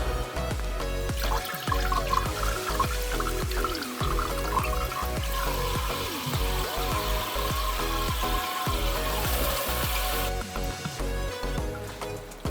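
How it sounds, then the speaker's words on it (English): A hose topping up an aquarium tank after an algae clean, water gushing and splashing steadily and loudly up close throughout. "I'm just going to top it up a little bit more while I've got the hose."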